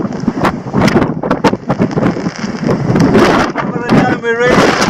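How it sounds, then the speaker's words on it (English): Storm wind gusts and rain beat down at a remote spot on the Isle of Raasay. The weather comes through as loud, rough buffeting with sharp bursts, and a person speaks over it the whole time. "so the storm is hit. It's kind of wild down here."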